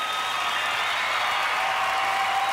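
Steady, dense applause from a studio audience at the Australian Gladiators semi-finals, a continuous wash of clapping at even level throughout with no voices on top.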